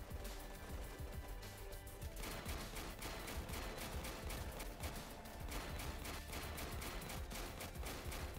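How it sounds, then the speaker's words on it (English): Dense, continuous gunfire from soldiers shooting in the war strategy game Warpips, rapid overlapping shots and bursts rattling without pause for several seconds. "I'm shooting bullets, but I don't think any of them are actually going to reach"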